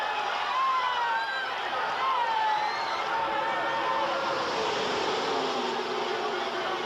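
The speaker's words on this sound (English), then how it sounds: "listen to this crowd of" Roar of a 170,000-strong crowd at a NASCAR stock car race, a dense, loud, continuous wash of cheering with a commentator talking over it throughout.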